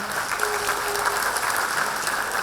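Audience applause in an indoor church gathering, steady dense clapping from many hands filling the room at even loudness, with no voices over it.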